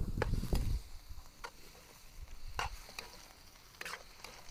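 Beef hitting hot sautéed garlic and onion aromatics in a pan for spicy kaldereta-style stew, a loud burst of sizzling and stirring at first, then a softer steady frying hiss with occasional utensil clinks.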